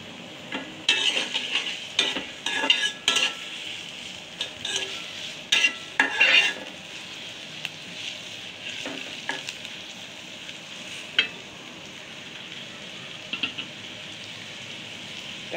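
Onions fry in hot oil and are stirred in the pan, a continuous sizzle broken by bursts of scraping and clattering utensil strokes that grow sparser toward the end.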